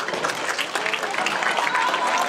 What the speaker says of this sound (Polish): Proszę Państwa o brawa.